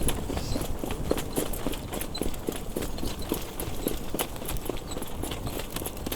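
A racehorse at a training center moves over the ground, its hooves clip-clopping in a quick, steady rhythm that continues throughout against a dense background wash.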